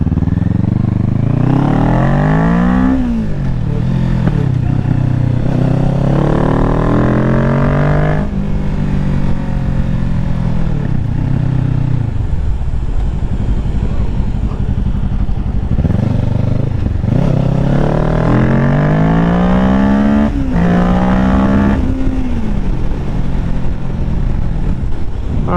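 A 2023 Kawasaki Ninja 650 accelerates hard through the gears, its engine note climbing in repeated rising sweeps with brief dips at each shift, loud and close over steady wind rush.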